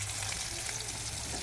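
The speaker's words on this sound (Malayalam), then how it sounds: "അപ്പോൾ 2-3 കഷ്ണം മീൻ എടുത്തിട്ട് പൊരിക്കണം" Two or three pieces of fish fry in hot oil, giving a dense, steady sizzling hiss that is close and continuous throughout, with no speech over it.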